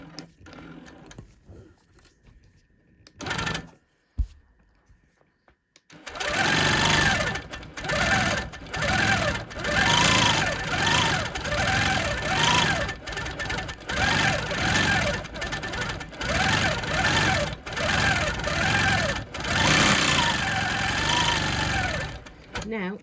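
A sewing machine free-motion quilts cursive letters, starting after a few soft clicks and then running loud and close in steady bursts with brief pauses between stitching runs.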